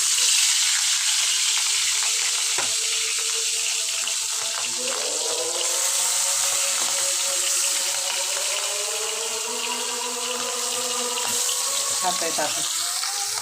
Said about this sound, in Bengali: মাছ ভাজা বসা দিচ্ছি